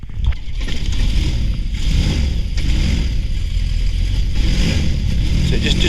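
A flexwing microlight's engine runs loud and close at a steady, constant RPM, a continuous rough droning roar with slight swells. Voices talk faintly underneath.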